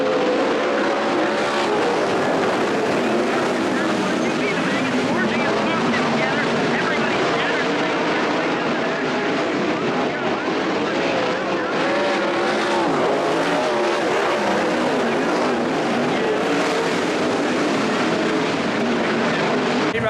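Sprint cars roar around a dirt oval at night during a heat race at the Australian Sprint Car Championship, a loud, continuous engine howl that rises and falls as the field laps, with crowd noise mixed in.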